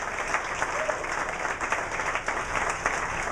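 Audience applause for Coach Steve Lochte after a talk on raising champions, with steady clapping from the crowd that runs the whole stretch at an even level.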